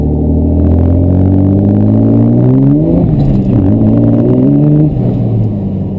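A twin-turbo Cummins truck heard from inside the cab as it drives and accelerates: a loud, close engine drone rising steadily in pitch, dipping briefly at a shift, then climbing again, with no talking.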